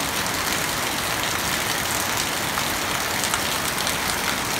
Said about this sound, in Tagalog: Medyo malakas na yung ulan guys